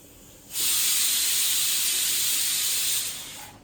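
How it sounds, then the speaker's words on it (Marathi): A kitchen pressure cooker lets out one loud, steady hissing whistle of steam that starts abruptly, holds for about two and a half seconds, then fades away. "ह्या कुकरच्या शिट्ट्या का वाजतात यार?"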